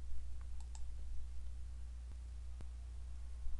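Computer mouse clicks in a software installer, a few faint, sharp single clicks over a low steady hum in a quiet room.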